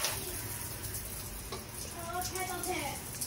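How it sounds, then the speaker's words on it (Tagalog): Water runs from a shower with its booster heater switched off, a steady hissing spray filling the whole stretch at moderate level while faint speech-like sounds surface over it. "Ayan lang yung tubig kapag nakapatay yung heater."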